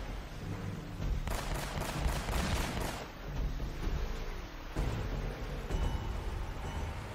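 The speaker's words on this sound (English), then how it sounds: "Who's shooting at me?" Gunfire erupts in the action video game Uncharted, with a dense run of rapid shots and booming impacts, then scattered bursts over a rumbling background.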